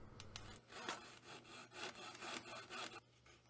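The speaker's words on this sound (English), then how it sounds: "cut into it with this gent saw that has a very tiny kerf, and then opened up the kerf for the fret wire with this coping saw" A fine-kerf gent saw and a coping saw cut fret slots into a plywood guitar neck, giving quick, rhythmic back-and-forth rasping strokes, close and quiet, with no voices.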